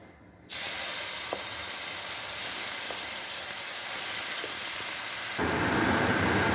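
Spice paste hitting hot oil in a pan for rui fish curry sets off a sudden loud, steady sizzle and spatter that continues unbroken, with a brief change in tone near the end.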